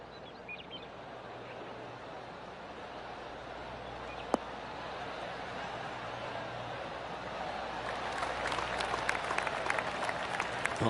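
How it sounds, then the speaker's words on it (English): Golfers' gallery in the video game PGA Tour 2K23 offering a golf clap, soft sparse claps building to a louder scattered patter toward the end over faint outdoor ambience. "Oh, golf clap."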